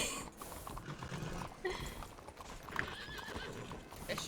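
Horse hooves clip-clopping with a whinny in Red Dead Redemption 2 roleplay, irregular hoofbeats shifting close by with a brief neigh partway through, faint and alone.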